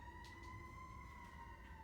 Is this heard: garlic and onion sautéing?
no